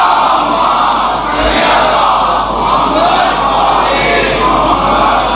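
A large congregation loudly recites salawat together at a gathering about the marriage of Bibi Fatima, a dense, continuous roar of many voices in unison with rhythmic swells, close and steady throughout.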